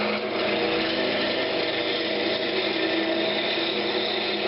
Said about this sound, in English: Speed the lathe up.